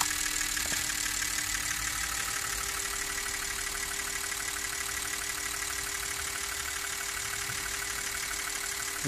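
BMW E39 EV conversion electric motor held at a 200 RPM idle, a steady continuous drone with a constant tonal hum and whine, even and unbroken throughout with no talk.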